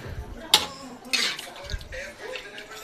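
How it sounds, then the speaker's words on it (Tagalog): A spoon stirs thickening dinuguan in a pot, giving a few sharp metallic clinks and scrapes spaced irregularly, with softer thick, wet stirring between them. "halo-haloin lang natin para lumapot siya"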